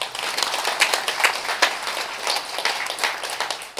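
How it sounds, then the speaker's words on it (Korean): Audience applause at a memorial ceremony for victims of the Nogeun-ri incident fills the room with a dense, sustained spatter of clapping that stays steady to the end, with no voices over it. "깊은 감사의 큰 박수 다시 한번 보내주시기 바랍니다"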